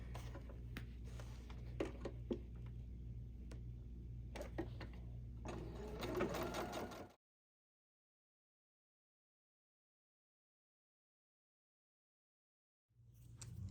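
A sewing machine stitches quilting lines across a fabric panel for a quilted zipper pouch, giving a steady, close mechanical whirr with a pulsing rhythm for about seven seconds, then silence before it starts again at the end.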